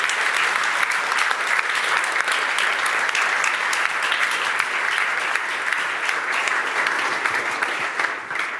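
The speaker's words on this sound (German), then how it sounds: "Ein Applaus extra" Audience at an award ceremony applauding, sustained dense clapping that holds strong for several seconds before easing slightly at the end.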